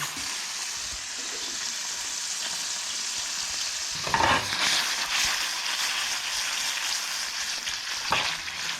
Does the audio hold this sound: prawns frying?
yes